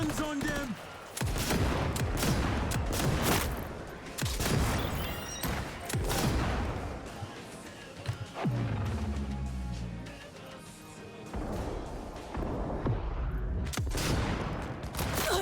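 Sustained gunfire in the Cyberpunk 2077 video game: dense, loud bursts of shots and automatic fire fill the whole stretch, with brief pauses and a low rumbling boom near the middle, and faint game voices beneath.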